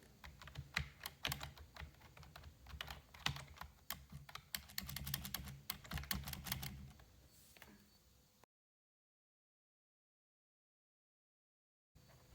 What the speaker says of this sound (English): This one has a bassier sound to the keyboard.